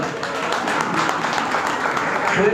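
A crowd claps steadily through a public meeting in Sonarpur North's Ward 34, a dense and even patter of applause with a faint voice beneath it.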